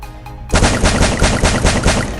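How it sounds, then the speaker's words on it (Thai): An AMG7 gun in Free Fire fires a rapid automatic burst, loud and close, with evenly spaced sharp cracks following a brief quieter lead-in. "ก็จะมาลองนี่นะฮะปืน AMG7 นะครับผมนะ"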